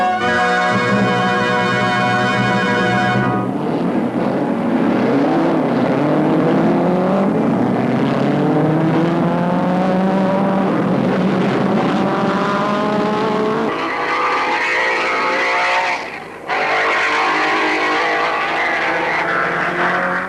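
Alfa Romeo 158 racing cars roar past with loud, rising engine notes, several overlapping passes sweeping up in pitch, with a brief drop near the end before the engine noise returns.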